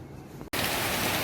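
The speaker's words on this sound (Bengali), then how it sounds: "মুষলধারে বৃষ্টি নেমে গেল।" A heavy rain downpour begins abruptly: a quiet moment, then a dense, loud, even hiss of rain on surfaces.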